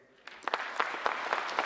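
An audience claps for a professor at the LandCare 2018 event, in scattered, rhythmic bursts that start after a brief quiet moment and continue steadily at moderate volume.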